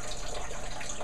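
Pork rib broth, with its fat layer separating from the water, pours in a steady, even liquid stream, close and continuous for about a second.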